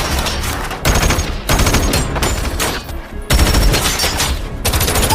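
Loud automatic gunfire rattles in rapid bursts with short pauses between them during a bank robbery shootout in an action film.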